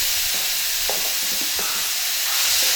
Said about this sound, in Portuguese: Você tempera e refoga.